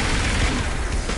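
Sustained laser arm weapon fire in Saints Row IV, a dense continuous crackling burst of rapid shots over the game's background noise, loud and unbroken for about a second.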